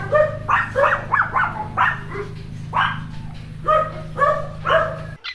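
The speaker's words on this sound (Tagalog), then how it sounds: "maingay nga yung mga large breed na kanyang aso" Several large breed dogs at a farm kennel bark repeatedly in loud, close, uneven bursts, some yelping and whining, over a steady low electrical hum that cuts out at the very end.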